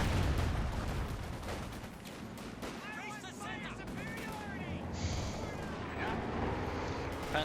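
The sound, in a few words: Sherman tank and captain firing in video game Company of Heroes 2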